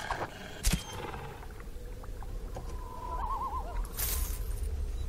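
A horse in the video game Sacred gives a short whinny with a wavering pitch, heard over steady game ambience along with a few scattered clicks and thuds.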